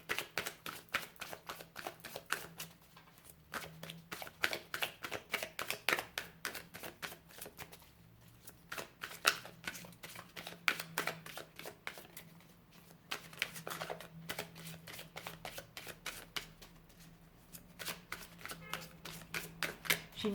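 Oracle cards are shuffled and drawn by hand, a long run of quick, crisp riffling flicks and soft card slaps in irregular bursts, close and fairly quiet.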